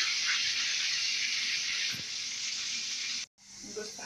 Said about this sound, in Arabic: ماما بتحمر البصله بتاعت الرز